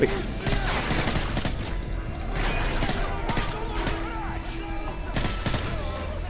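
Rapid bursts of M5 rifle fire in Call of Duty: Modern Warfare 3, repeated loud volleys mixed with mechanical clatter and other combat noise, continuous and close throughout the stretch.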